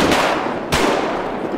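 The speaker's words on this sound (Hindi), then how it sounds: "तो भाई साहब वहाँ पर फायरिंग होने लगी है" Video-game gunfire as Trevor shoots it out with a few enemies: two sharp broadband shots about half a second apart ring out loud and close over a dense, noisy game background, with no talk.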